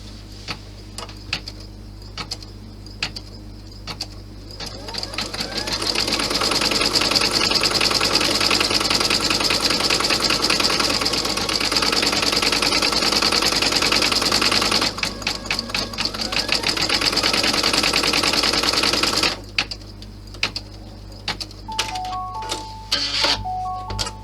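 An embroidery machine stitching felt bunny teeth, floated rather than hooped, runs with a steady loud mechanical whir and rapid needle clatter for most of the stretch, pausing briefly before clicking and stopping.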